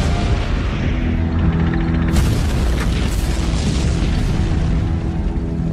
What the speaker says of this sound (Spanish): el tanque de Leach se para y un Panzer lo destruye